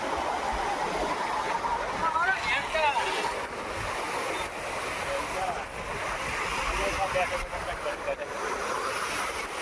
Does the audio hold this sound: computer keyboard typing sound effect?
no